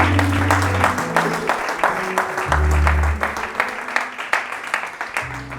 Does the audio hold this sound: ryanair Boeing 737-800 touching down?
no